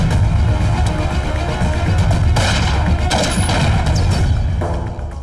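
Dense handgun gunfire in an action movie shootout, a continuous loud fusillade of overlapping shots and booms that fades slightly at the end.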